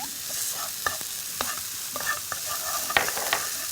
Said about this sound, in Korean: 새우랑 오징어는 다 익혀서 다진 거기 때문에 이렇게 살짝만 좀 볶아주시고요.